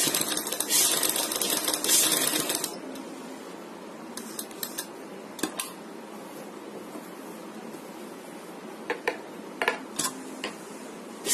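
A sewing machine stitches for a poncho design, running in a loud burst at first, then in shorter runs and ticks with brief pauses between.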